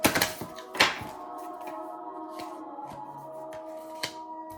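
A deck of cards being shuffled close by during a tarot-style reading, a few crisp riffling bursts and taps followed by quieter handling, faint and intermittent.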